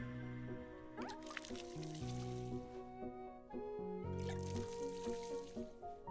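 Soft splashing water from a watering can pouring onto a plant egg in the cosy video game Wanderstop, coming in two gentle bursts over a steady background of light melodic game music.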